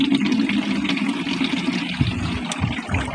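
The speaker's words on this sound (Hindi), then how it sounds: "अभी देखिए इसमें पानी भर रहे हैं, छांद कर पानी भर रहे हैं" Muddy water is strained through cloth and poured into a sprayer tank for weedkiller in a rice field, giving a continuous close splashing, gurgling flow.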